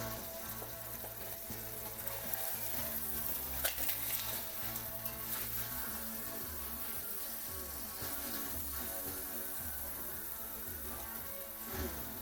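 Pot roast sizzling steadily in hot grease after being flipped in the pan, a dense, continuous frying crackle that carries at an even level from start to finish with no voices.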